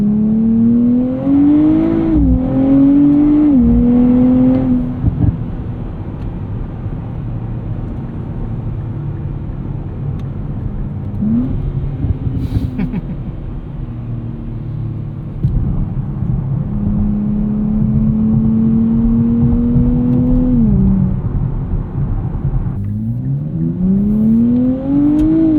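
A 2024 Nissan Z Nismo engine climbs repeatedly in pitch as it accelerates, each run dropping sharply at a gear shift, loud and close over a long continuous stretch.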